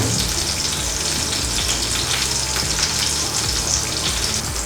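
Tomato and cheese omelet seasoned with salt, chat masala and pepper powder sizzles steadily in a pan on the stove, a loud, continuous frying hiss with no voices.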